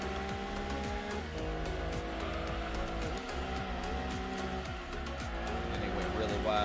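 A Subaru race car in Gran Turismo 2 drives hard with a continuous loud engine drone and repeated gear-shift dips in pitch, while a voice talks over the racing noise.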